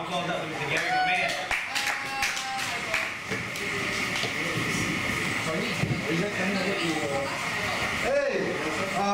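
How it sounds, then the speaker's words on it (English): A poetry-night audience claps for a performer named Gary taking the stage; the clapping runs steadily under near, overlapping voices and cheers, with a brief louder swell late on. "So give a round of applause up to Mr. Gary, my man."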